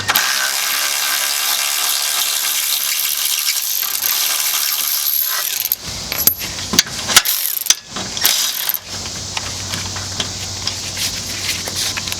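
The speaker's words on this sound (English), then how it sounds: "Now that they're broke free, we'll use our electric ratchet." An electric ratchet spinning bolts loose while replacing a car's lower control arm: a long, loud, continuous whirring buzz, then a few sharp metallic clicks and clanks as the tool stops and parts are handled.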